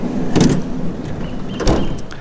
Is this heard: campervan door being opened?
yes